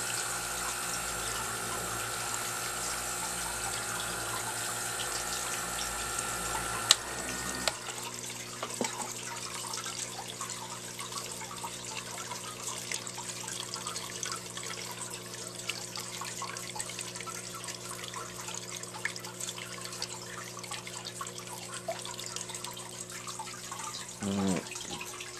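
Water running steadily to fill a blue aquarium bowl, a continuous pouring and gurgling with small splashes, close and even in level and with no voices.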